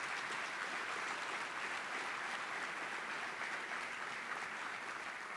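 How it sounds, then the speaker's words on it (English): An audience at the Oro Valley Chamber's annual meeting and awards breakfast applauds its chamber volunteers, a steady, dense wash of clapping that holds at an even level throughout, moderately distant and with no talk over it. "How about a round of applause for those volunteers?"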